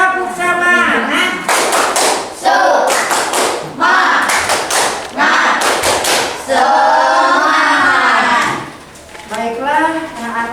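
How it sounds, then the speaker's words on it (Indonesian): A class of sixth-grade pupils performs a rhythmic spirit clap in an elementary school classroom, loud patterned bursts of claps alternating with children's chanting voices. "Tepuk semangat dulu. Tepuk semangat."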